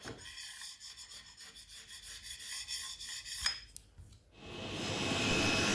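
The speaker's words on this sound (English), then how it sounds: "a normal putty knife and without any real pressure, just scrape it off" Putty knife scraping residue off formply, a run of short rhythmic rubbing scrapes up close, then a brief clatter and a rising broad hiss.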